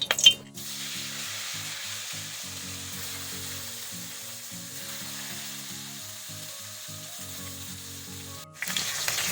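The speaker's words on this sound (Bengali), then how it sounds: "মাছ একদিকে ভাজা হয়ে গেছে" Bata fish frying in oil in a pan, a steady close sizzle running unbroken for several seconds, with a sharp burst at the start and a louder spatter near the end.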